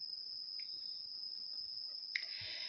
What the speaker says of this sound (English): did you hear this cricket? Cricket sound?